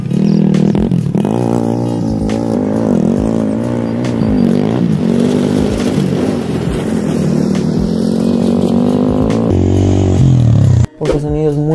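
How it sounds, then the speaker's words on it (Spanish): An MRT TR 200 motorcycle with its stock factory exhaust roars loud and close, a deep engine note rising and falling as it revs, then cuts off sharply near the end. "debo decir lo que es el sonido con el escape de fábrica. O sea, suena increíble."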